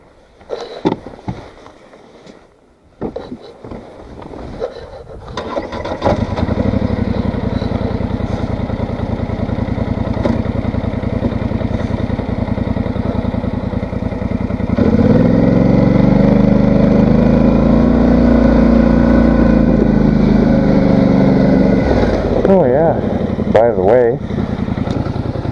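ATV quad engines run continuously at close range, a steady droning idle that swells into louder, sustained revving partway through, with a few scattered knocks and handling noises at the start and end.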